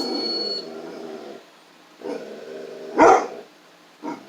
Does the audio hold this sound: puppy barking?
yes